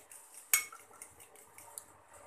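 A utensil beats an egg and maida batter in a bowl, making faint, light taps and scrapes with one sharper clink near the start and no talking.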